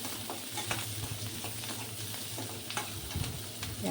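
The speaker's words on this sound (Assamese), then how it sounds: "সেইখিনি তেলতে মই পিঁয়াজ এটা কাটি ইয়াতে মই ভাজিম এতিয়া" Onion, raw chickpeas and panch phoron fry in hot oil with a steady close sizzle, broken by scattered crackles and the occasional scrape of stirring.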